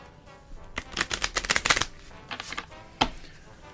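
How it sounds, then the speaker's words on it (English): A deck of playing cards is shuffled and mixed by hand up close, a burst of quick riffling flutters followed by a few softer shuffles and one final sharp snap. "if you would please shuffle your cards or simply mix them up"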